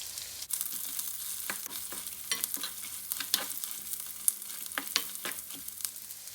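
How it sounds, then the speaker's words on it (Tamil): Chillies, curry leaves and small pieces of ginger fry gently in a pan, a soft steady sizzle broken by scattered clicks of a spoon stirring, fairly quiet and close. "எல்லாத்தையும் வந்து சாதுவாக வறுக்கணும், நல்லா பொரியக்கூடாது"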